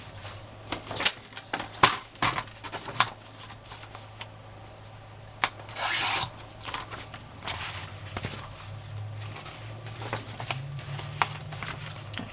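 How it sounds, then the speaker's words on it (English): A paper journal page is trimmed, giving a series of short, crisp snips and rustles that come irregularly over a quiet room hum, with a longer rasping stretch midway. "This sticks out quite a bit, this middle page, so I'm going to trim that."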